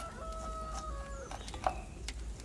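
A chicken clucks in short bursts with a louder squawk midway, close by over a low background hum, with no talking.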